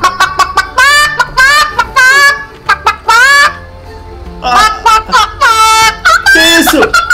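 Chicken in GTA 5 clucking loudly in repeated short bursts and squawks, close up, while a voice talks and laughs around it.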